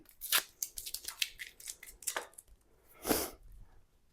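A flexible 3D-printed baluster template jig is peeled away from a surface, giving a series of close, crisp tearing and ripping crackles in uneven bursts, ending with one louder pull, with no talking.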